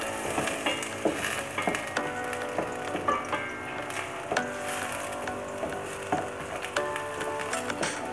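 Garlic sizzling in hot oil in a pan while chicken adobo is cooked, a steady crackling fry with occasional sharper ticks and clinks of stirring, fairly close and alone with no talk.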